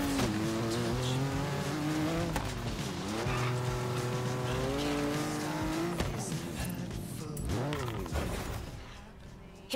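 A Hot Wheels car races in the Forza Horizon 3 video game, its engine droning and rising and falling while tires squeal through the corners. The engine stays loud and steady across the whole stretch.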